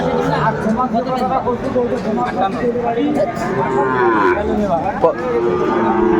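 Cattle moo repeatedly amid a busy crowd of voices and background chatter, the lowing loud and near over the din of a Faridpur livestock market selling Sahiwal bulls.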